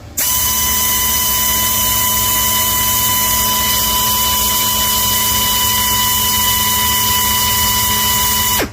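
A DIY oil pump dyno for small- and big-block Chevy pumps runs at 25 pounds of oil pressure. It gives a loud, constant mechanical whine with a strong steady tone that starts abruptly and cuts off at the end.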